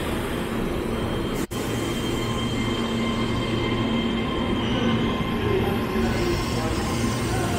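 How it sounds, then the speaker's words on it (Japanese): An eight-car 3000-series Keihan limited express electric train bound for Demachiyanagi pulls out of Kyobashi station on the Keihan Main Line in Osaka, a loud, sustained rumble and rolling rail noise close by, with a brief sharp click early on. "3000系の出町柳特急電車ですね、8両編成が今京橋駅を出発していきました。"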